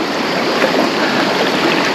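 Fast-flowing Psezuapse river near Lazarevskoye, Sochi, in July: a steady, dense broadband rush of water that holds even and close throughout, with no voices.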